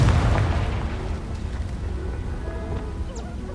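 A Confringo explosive spell goes off in the Hogwarts Legacy video game, a loud booming blast with a heavy low rumble that fades into a continuing noisy roar and scattered crackles.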